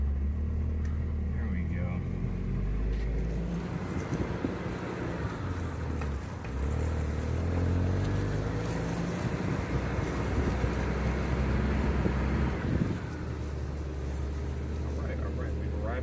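A utility vehicle's engine idles steadily in low gear while crawling along at walking pace, a continuous low rumble with some wind noise over it, and someone talks briefly over the engine.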